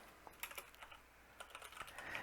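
Quiet typing on a computer keyboard, a few scattered keystrokes and short bursts of clicks spread irregularly over a couple of seconds, soft and close with no voices.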